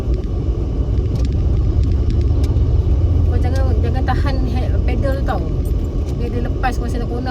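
Car being driven during a parent's JPJ driving test, a steady rumbling engine and road noise inside the cabin while people talk over it.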